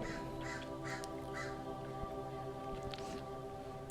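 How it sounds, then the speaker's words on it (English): Crows caw repeatedly at a distance outside an open window over a steady low hum, a few harsh calls spaced across the stretch. "you may hear the birds in the background"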